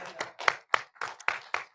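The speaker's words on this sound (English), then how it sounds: "We can clap on that." An audience claps at a live Americana and political signature auction after a lot sells, in sparse, evenly spaced bursts of hand claps with no talking.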